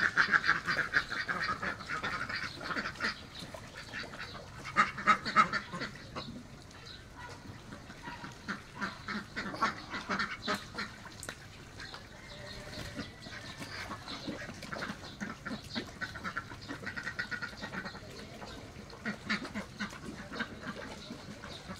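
Pekin duck breeders swimming fill the air with a steady chorus of quacks and honking calls from several birds, overlapping and continuous, at moderate distance beneath soft water and background noise.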